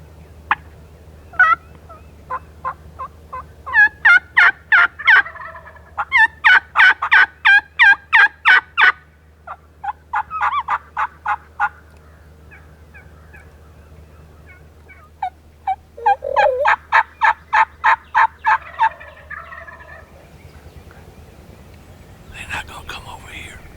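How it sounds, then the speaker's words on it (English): Rio Grande wild turkeys in Oklahoma woods yelp in loud, rapid runs of notes repeated through the stretch, with gobbles mixed in, while a quiet whispering voice and a low steady hum sit underneath. "several hens yelping in the woods after fly down means these old boys probably ain't coming our way"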